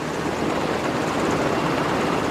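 Helicopter on a hoist rescue mission, heard as a steady, loud broadband rotor and engine roar that holds constant throughout, with no voices over it.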